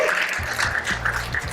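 Audience applause at a high school poetry recitation contest, a steady wash of clapping that swells in short bursts across the room, with a low hum running underneath.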